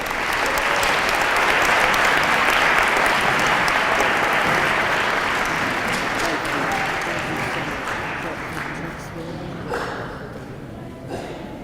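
An indoor audience at a school fire commemoration claps in sustained, dense applause that gradually thins and fades toward the end.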